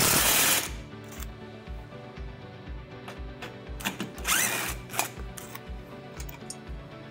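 A power drill with a T40 Torx bit backs bolts out of a Polaris Pro XP windshield mount, whirring in short bursts with ratcheting clicks and brief pauses, close and alone.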